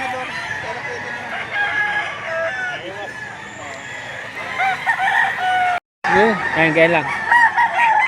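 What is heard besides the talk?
roosters at a livestock auction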